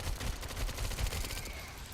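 Rapid automatic SMG fire in the survival-horror video game Resident Evil Requiem, a dense run of close, punchy shots that rattles on for the full two seconds with little pause.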